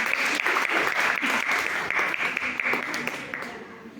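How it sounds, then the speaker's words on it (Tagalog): A church congregation claps together at a 26th anniversary Saturday service, a dense, steady round of applause filling the room before thinning slightly at the end, with a few voices mixed in. "Palakpak kay Lord."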